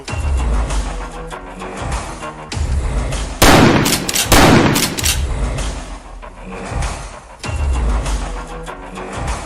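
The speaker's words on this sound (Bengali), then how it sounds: "দুটো ফাঁকা গুলি ছোড়ো তো" Two loud, sharp blank gunshots ring out close together in a forest, their blasts echoing briefly before the scene settles back to rustling ambience.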